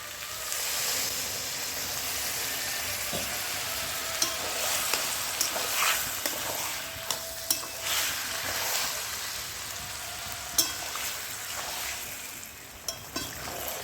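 Fish oil, a Bengali fish-fat preparation, frying and sizzling steadily in a pan after a splash of water, with a continuous dense hiss and occasional sharp pops and stirring clicks close by.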